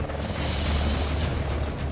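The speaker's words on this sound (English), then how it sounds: "the force of the chopper's blades creates strong winds and turbulence in the water" A helicopter hovers low over water at a survival school, its rotor blades giving a loud, constant thudding roar with rushing wind and no break.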